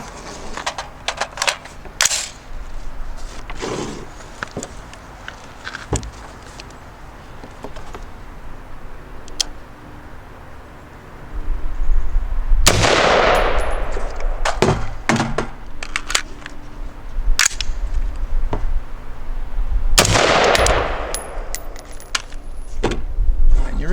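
Gunshots from a magazine drill at a range, with two loud sharp bursts standing out over a busy backdrop of small clicks, clatters and handling noise.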